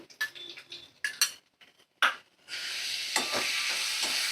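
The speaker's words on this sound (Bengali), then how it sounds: "আমি 2 চামচ টক দই দিয়ে দিলাম।" Spoonfuls of sour yogurt added to a curry pan with goat liver: a few sharp metal spoon scrapes and taps against the pan, then a steady sizzle as the yogurt hits the hot pan and is stirred.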